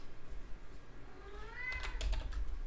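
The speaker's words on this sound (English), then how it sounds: "That's my cat." A pet cat meows with a rising, drawn-out call close to the microphone, while quiet computer keyboard typing and low room noise run underneath.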